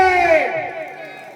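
A rally crowd in Dhanora raises a loud shouted slogan, a single strong surge of voices that fades over about a second, with no clear clapping standing out.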